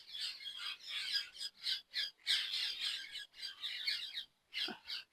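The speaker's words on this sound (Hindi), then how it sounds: "ये रे भैया सारे तोते हैं।" A flock of parrots squawks in harsh, overlapping bursts close by on a farm, calls coming in dense clusters with brief gaps between them.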